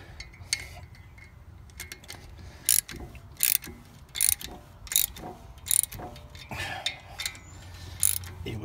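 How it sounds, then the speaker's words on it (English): Ratchet wrench turning bolts to push out a brake rotor on a Lexus RX350, short bursts of metallic clicking repeated about every half second to a second, close up, over a low hum. "You screw them into here and you back out the rotor."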